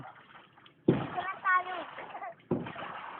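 A paddle dips and splashes in water during rowing, two distinct strokes a second or so apart, close by, with a person talking between and over them.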